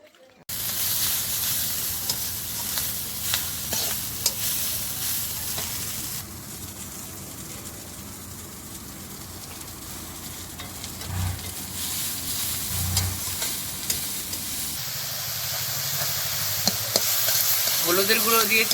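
Leafy greens stir-fried with a fish head and turmeric powder in a home kitchen, a continuous sizzle with scraping stirring strokes and bursts of louder frying, running steadily and close throughout.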